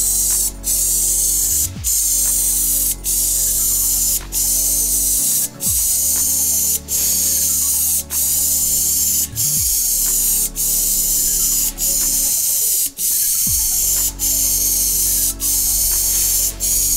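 Loud, steady hiss of a spray gun spraying bituminous membrane primer in long continuous passes across a surface, broken by brief pauses every few seconds, with no voices.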